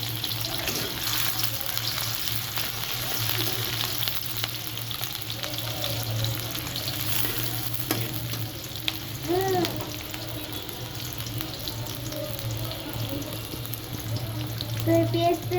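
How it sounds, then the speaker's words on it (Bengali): Onions frying in oil on a stove, with a continuous close sizzle and occasional stirring, and a low hum beneath it. "তো এই পেঁয়াজটা একটু আমরা তেলানি করে নেব। এটা একটু ভেজে নেব।"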